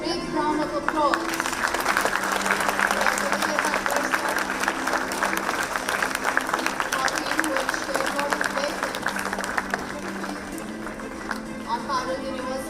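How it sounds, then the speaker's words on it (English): Sustained audience applause fills a conference hall at a university event honoring a chief guest, steady and dense for most of the stretch before thinning near the end, with some murmuring voices mixed in. "Can we give a big round of applause?"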